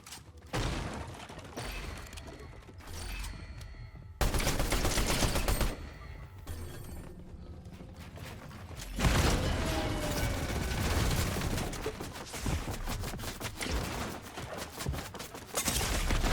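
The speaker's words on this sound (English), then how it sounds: "Why am I getting shot from everywhere?" Dense, sustained gunfire in the video game Fortnite, with rapid bursts and volleys from several directions that keep up almost without pause, loud and close throughout.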